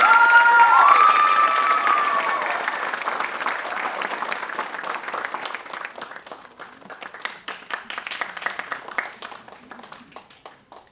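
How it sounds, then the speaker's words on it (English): Audience at a Bharatanatyam arangetram recital bursts into loud applause with cheers and whoops at the start, the clapping continuing strongly and slowly thinning into scattered individual claps toward the end. "Big round of applause for Meera and Guru Sudakshina."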